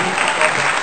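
Brief burst of dense clapping from an audience at an art exhibition event, loud and close.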